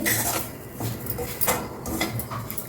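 Semolina and fresh grated coconut roast in a pan for ravva laddu, with a spoon scraping and clinking against the metal in irregular strokes over a low sizzling hiss.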